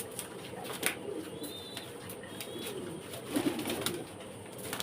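Fancy pigeons at a pigeon farm in Faridpur coo steadily in soft, repeated low calls, with faint chirps and background noise, no speech.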